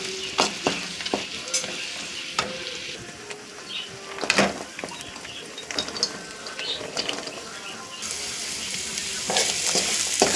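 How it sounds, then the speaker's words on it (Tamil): Onions, potatoes and curry leaves frying in a pan, a steady sizzle broken by scraping and clinking as a spoon stirs, rising slightly toward the end. "கருவேப்பிலையும் வெங்காயமும் நல்லா ஃப்ரை பண்ணிக்கலாம்."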